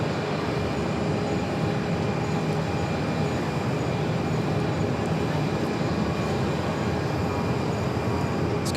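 A US Airways Airbus A319 takes off from Phoenix Sky Harbor bound for Tucson, producing a loud, steady broadband jet roar that holds constant throughout.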